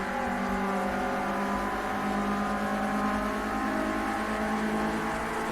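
Renault Clio Cup race cars, identically specified, race at Silverstone National circuit; a steady, loud engine drone with layered revving harmonics holds throughout, several cars close together with no break.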